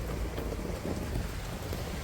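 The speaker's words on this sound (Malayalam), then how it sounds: "മഴ തകർക്കുകയാണ് കേട്ടോ അപ്പോൾ ഇന്ന് മഴയാണ്" Dense, steady rain pours down in a continuous hiss, loud and close, with a low rumble underneath.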